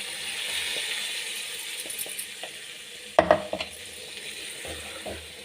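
Ground tomato hits a hot frying pan for a Kannada tomato gojju chutney, giving a steady soft sizzle with a brief burst of stirring and pan clatter partway through.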